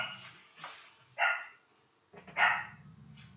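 Several sharp dog barks ring out in quick succession, fairly close and loud, with short quiet gaps between them.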